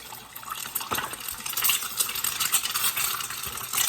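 An egg cracked straight into hot oil in a pan, frying with a steady broadband crackle and sizzle that swells and stays loud, with bursts of spattering throughout.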